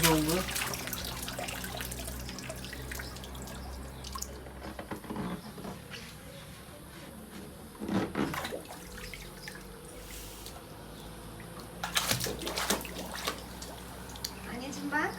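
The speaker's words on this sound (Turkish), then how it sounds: "Ege su akıyor." Water running steadily into a small pool on a home balcony, a continuous splashing flow with dripping, under background talk and a voice.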